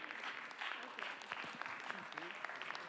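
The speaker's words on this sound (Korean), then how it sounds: "우리 줄 때 박수 한번 주면 좋겠습니다." Soft, distant clapping from a congregation at a church worship service runs continuously, with speech layered on top of the faint applause.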